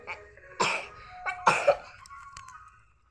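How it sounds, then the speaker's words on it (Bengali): A person coughs indoors at home: two harsh, close coughs about a second apart with a smaller throat sound between them and no talking. "কাশি হয়েছে"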